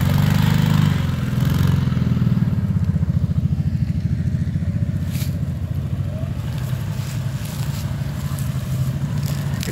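A Kawasaki off-road vehicle grinds through deep, nasty mud at a mud park, its engine droning loud and steady with a throaty low rumble and slight revving throughout.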